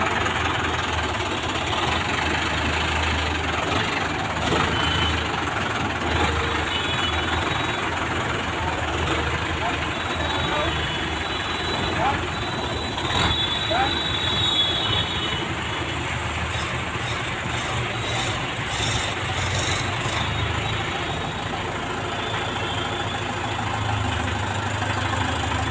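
A Mahindra 585 tractor engine idles steadily throughout, a continuous low mechanical rumble with a slight knock, accompanied by background ambient noise and people talking nearby.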